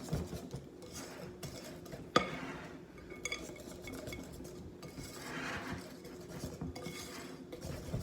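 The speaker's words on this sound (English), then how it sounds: "Stir up all that nice and good." Vanilla cake batter with cracked eggs being stirred in a bowl, with steady soft scraping and rubbing of the utensil and an occasional sharp clink against the bowl.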